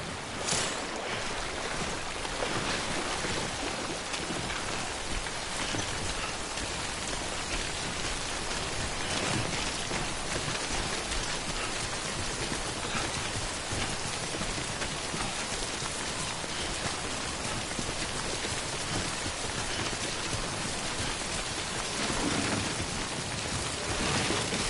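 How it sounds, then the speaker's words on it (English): Steady heavy rain (timefall) in the video game Death Stranding, falling continuously as a dense, loud wash for the full duration, with no talk. "Don't stay out in the rain any longer than you have to."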